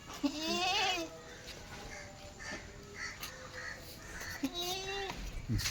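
Dairy goats and young kids for sale at a livestock market bleat several times close by, their wavering calls rising over a noisy outdoor background with faint voices.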